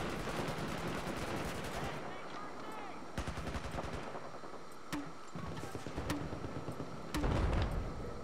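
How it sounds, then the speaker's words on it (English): Gunfire in Battlefield 4, with sharp shots in rapid machine-gun bursts and spaced single cracks, fairly close and loud over the battle's background noise. "Oh, yeah, I'm getting shot."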